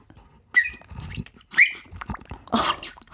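Bird calls imitated with a water-filled ceramic whistle, the water making the chirps trill; three separate warbling, bubbly calls sound close and clear with short pauses between them.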